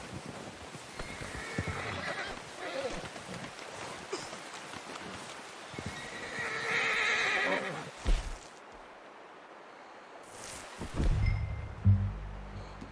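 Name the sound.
horse whinnying and hooves, from a video game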